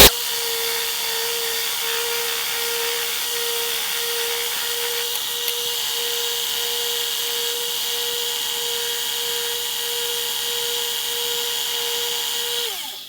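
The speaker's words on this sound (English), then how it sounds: "we're going to edge sand it on our edge sander" An edge sander works a cherry wood table leg for a handcrafted end table, giving a steady, loud, high-pitched whine that runs evenly for about thirteen seconds and then cuts off, with no talking.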